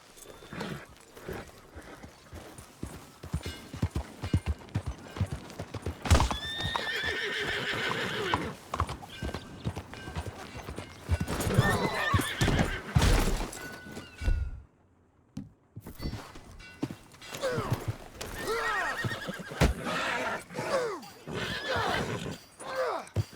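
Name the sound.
horse hooves and whinnying in the video game Red Dead Redemption 2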